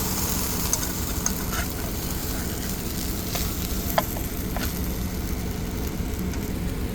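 Meat sizzles steadily in a hot pan for arayes in tortilla as it is kept moving, giving a constant close hiss with occasional light scrapes and clicks from the stirring.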